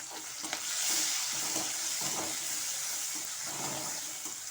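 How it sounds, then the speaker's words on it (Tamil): Onion, tomato and curry leaves with a pinch of asafoetida sautéing in a pan, giving a steady close sizzle with faint stirring scrapes underneath, continuous and fairly loud throughout. "அரை தக்காளி அதையும் சேர்த்து நம்ம வதக்கிடலாம்"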